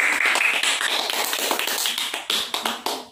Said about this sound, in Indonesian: beri aplaus untuk kelompok pertama